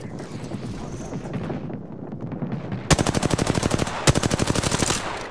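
Video game gunfire bursts in two rapid automatic volleys of sharp, evenly spaced shots over a constant windy rumble, with no clear voices.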